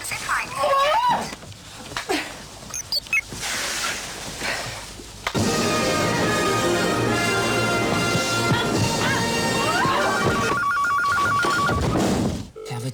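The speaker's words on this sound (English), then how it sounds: "answer the phone." A telephone rings in a 1989 television drama, a repeated electronic trill heard amid busy background noise and clatter, entering loudly midway and cutting off near the end.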